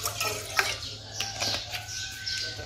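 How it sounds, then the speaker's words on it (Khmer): Water poured into a pot while making a tofu dessert with palm sugar, a close, continuous splashing gurgle that rises and falls over a low hum. "ចាក់ទឹកចូលវិញ"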